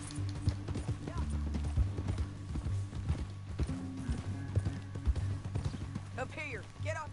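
Horse hooves clip-clop in Red Dead Redemption 2, an irregular run of hollow hoof knocks over a low engine-like hum, with a horse's whinny near the end and speech-like sounds mixed in.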